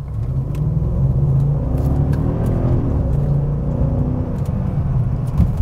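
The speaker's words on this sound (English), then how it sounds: "See if we can get a little bit of exhaust noise." BMW X5 4.8is with its 4.8-liter 360 hp V8 revving from inside during a test drive, a steady loud low engine and exhaust rumble that swells and holds without a break.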